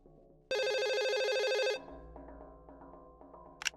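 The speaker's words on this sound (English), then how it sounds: "the phone rings again" A telephone in a video game rings with one loud electronic trill lasting just over a second, followed by quieter background music tones.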